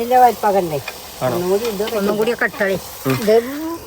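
Banana fritters (pazhampori) sizzle softly in hot frying oil while voices talk over the cooking almost continuously.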